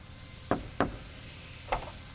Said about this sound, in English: You knock twice to get in the rear, knock twice to get into the sides